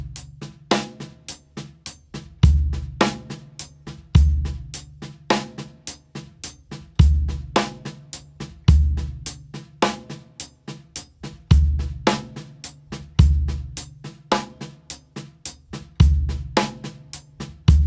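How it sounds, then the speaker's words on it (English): A drum kit plays a steady sixteenth-note groove as a single stroke roll split between hi-hat and snare, with strong accented snare backbeats recurring in a tight, driving loop, loud and close. "you're playing a single stroke roll between your hi-hat and your snare drum"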